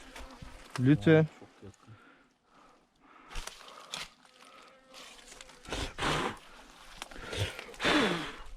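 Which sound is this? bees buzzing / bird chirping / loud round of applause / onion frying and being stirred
bees buzzing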